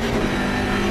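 BMW M4 GT3 race car engine at Monza in Assetto Corsa Competizione, a loud, close, steady roar held at high revs without a break.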